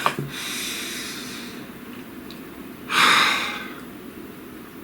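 A slow deep breath drawn in and let out during a calm tarot reading session, with a long soft airy inhale followed by a louder, brighter exhale near the end, close and alone without speech.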